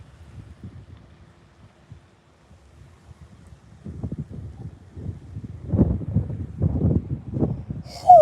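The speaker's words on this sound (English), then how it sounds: "the wind feels awful" Wind gusts outdoors at a lakeside bass-fishing spot, buffeting the microphone as a low rumble that swells and grows louder over the second half, with a brief sharper noise at the very end.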